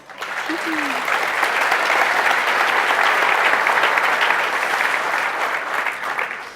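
Sustained applause from a real estate conference audience, a dense wash of many hands clapping that swells quickly and holds steady for several seconds before tapering slightly, loud and close with no speech over it.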